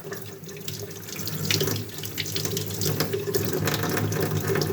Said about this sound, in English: Go ahead and run some water on our cotton.